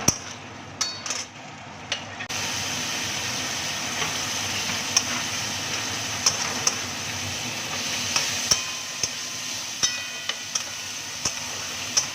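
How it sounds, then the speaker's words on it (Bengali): Fried fish roe in sauce is stirred in a pan with a constant sizzle and hiss, while a spatula knocks and scrapes the metal at irregular intervals, close up and without talk. "এবারে আমি জিনিসটাকে নাড়তে থাকবো।"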